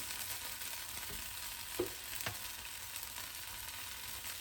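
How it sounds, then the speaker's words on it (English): Tomatoes frying in a pan over medium-low heat give a steady, quiet sizzle, broken by a few soft stirring knocks near the middle, with no voices. "Now we have to cook the tomatoes, so probably about 5 minutes on medium-low heat"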